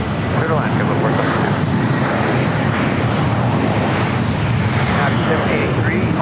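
A fixed-wing airliner at LAX, landing or taking off, roars as a steady, loud broadband engine rumble that stays constant and close throughout, with wind noise on the microphone and voices faintly underneath.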